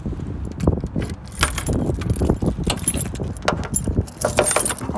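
Car keys jangle and clink close up in near-continuous bursts, as someone handles a key to open the boot of a Mustang.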